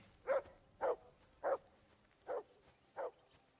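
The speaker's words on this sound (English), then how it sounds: "I assume you can hear that damn dog of yours barking." A dog barks five times in an even, spaced rhythm, moderately loud and clear against a quiet background, in the video game Kingdom Come: Deliverance II.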